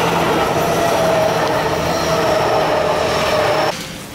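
A train rumbles loudly past with a steady roar and faint squealing wheels, then drops off abruptly near the end.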